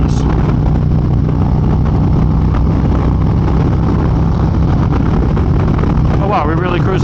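A Harley-Davidson motorcycle cruising at speed, a loud continuous engine drone mixed with rushing wind, while the rider talks over it.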